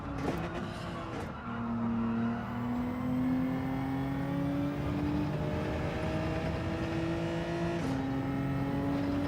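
Alfa Romeo 4C race car engine in Gran Turismo 7, a steady held engine note that rises slowly through the gears, with a brief drop near the end, loud and continuous against a low rumble.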